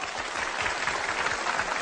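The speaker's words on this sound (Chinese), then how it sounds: "掌声有请我们的模仿秀选手" A studio audience claps steadily for a celebrity-impression singing contestant being welcomed on stage at a talent show, with dense, continuous applause filling the short stretch at fairly loud level.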